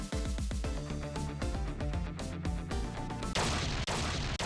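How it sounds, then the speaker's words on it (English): An explosion booms in the game Ghost Trick, heard as short sharp impacts mixed into busy game music and effects, with a louder noisy burst near the end. "I think I heard an explosion somewhere"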